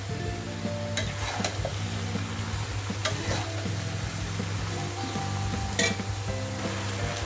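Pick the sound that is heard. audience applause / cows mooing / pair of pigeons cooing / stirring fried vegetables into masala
stirring fried vegetables into masala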